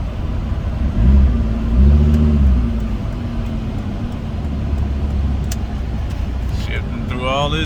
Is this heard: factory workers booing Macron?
no